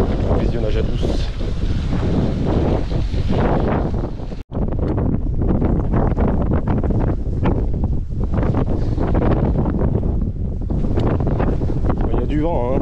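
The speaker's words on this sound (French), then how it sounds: "Il y a du vent, hein." Strong wind on a stormy day buffets the microphone outdoors in loud, rumbling gusts, with one brief drop near the middle before the roar resumes.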